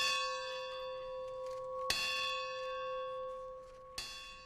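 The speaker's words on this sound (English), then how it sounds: "The school's victory bell rang 32 times this morning" Kent State University's victory bell tolling on an anniversary morning, three strikes spaced about two seconds apart, each ringing out with a long sustained hum that carries between strokes.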